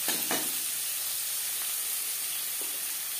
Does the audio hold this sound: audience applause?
no